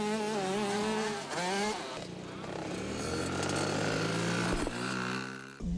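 Small motorbike engines of children's riding-school bikes rev and whine continuously, several machines rising and falling in pitch, loud and close with a busy, overlapping drone.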